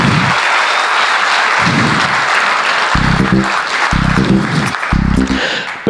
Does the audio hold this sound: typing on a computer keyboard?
no